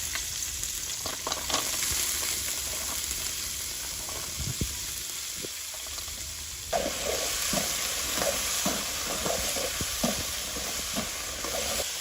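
River fish sizzling steadily in a pan as jackfruit seeds are added, with a brief quieter lull followed by a louder burst of frying and intermittent stirring clatter, no voices.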